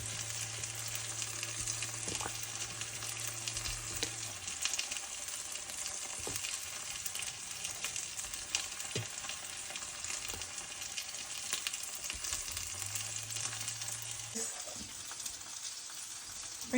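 Zucchini pieces fry in a pan with a steady, even sizzle throughout, broken now and then by faint clicks and a low background hum.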